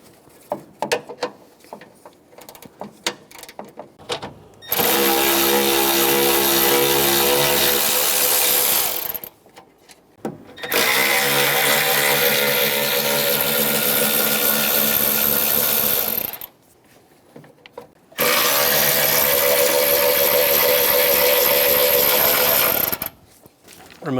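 A power tool, likely an impact driver or ratchet, spins out the three 10mm bolts on the AC condenser support of a 2014-2018 Chevrolet Silverado, in three long, loud whirring bursts separated by brief pauses.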